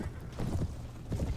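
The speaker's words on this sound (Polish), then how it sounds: "Tutaj coś ganiają, konie sobie biegają." Horses run across the field in the medieval combat game Mount & Blade Floris Evolved, their muffled hoofbeats thudding in a loose galloping rhythm, moderately close and fairly soft.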